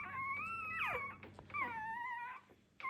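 Newborn dark merle puppy from a litter whimpering and squealing in repeated high wavering cries, close and fairly loud, with short pauses between calls.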